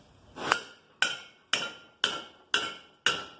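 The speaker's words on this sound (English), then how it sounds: "You put the metal in the vise, tap it down, make sure she's nice." Six sharp metallic hammer taps on metal clamped in a vise, evenly spaced about half a second apart, each ringing briefly before the next, close and alone without speech.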